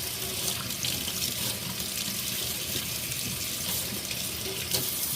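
Tap water pouring steadily into a basin for wet blocking acrylic yarn, a constant close splashing rush with no talking.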